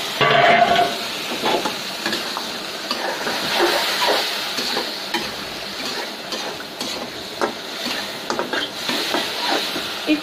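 Shing fish, crab, tomato and vegetables sautéing in a pan for a curry, giving a steady soft sizzle with scattered light stirring clicks throughout.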